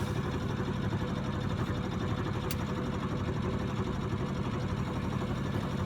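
A sailboat's inboard engine runs at about 1500 RPM while docking, giving a steady, continuous broadband drone that stays even in level for the whole stretch, with no talk.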